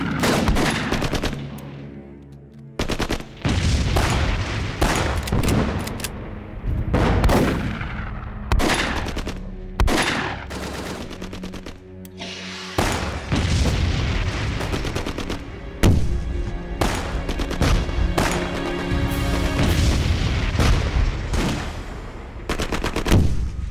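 Heavy machine gun and rifle fire rattle through a war film battle against Japanese soldiers, with repeated loud bursts, sharp single shots and booming blasts broken by brief pauses, with no talk over them.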